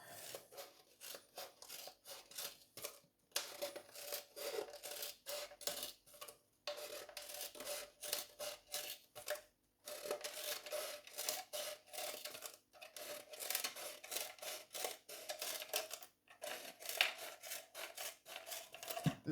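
Plastic Ribena bottle being trimmed by hand to make a fig fruit picker, close and fairly quiet, with steady rapid cutting and rasping strokes broken by a few short pauses.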